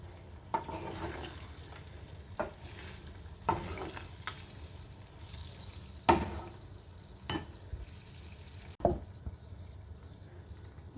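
Paneer stirred while frying in oil in a pan, with raisins mixed in, giving a steady low sizzle and a few sharp scraping clinks of the spoon at irregular intervals, close and fairly quiet.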